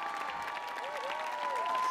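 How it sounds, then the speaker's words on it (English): Audience applause after a request to clap for a show organiser at a concert on the Millennium Stage, steady dense clapping throughout with a sustained tone, likely stage feedback or an instrument, lingering underneath. "Can you all give her a round of applause?"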